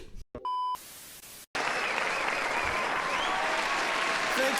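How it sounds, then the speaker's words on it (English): Applause sound effect of a crowd clapping fills most of the clip, loud and steady after a short electronic beep and a gap at the start. "We have clap sounds."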